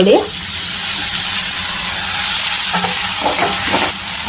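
Chopped tomatoes hit hot oil in a pan while cooking vermicelli upma, giving a loud, continuous close sizzle broken by a few light scrapes and clinks of stirring.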